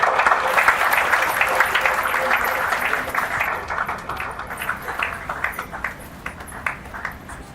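An audience at a religious blessing ceremony claps together, a dense continuous patter that gradually thins and fades toward the end.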